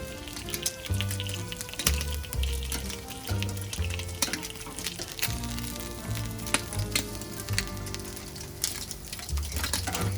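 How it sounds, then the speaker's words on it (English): Bacon sizzling on the grate side of a barbecue over open flame, a continuous crackling fry with sharp pops, heard against prominent background music. "just to give the bacon some lines, I'm going to put it on the grate side of the barbecue"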